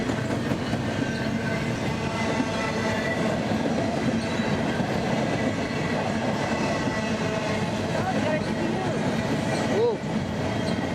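A long freight train rumbles past close by at Flagstaff, Arizona, a steady loud roar of wheels and cars with clattering and a brief squeal near the end.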